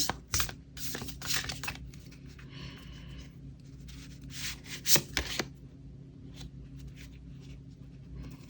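An oracle card is drawn from a deck during a tarot reading. Close, dry rustles and shuffling card flicks come in short bursts, with a sharper snap midway, and there is no speech.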